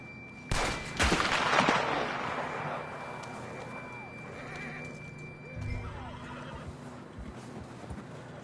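A horse in Red Dead Redemption 2 gives a loud, close whinny, followed by hoof clip-clop and a second, fainter neigh, with faint voices and distant gunfire in the background.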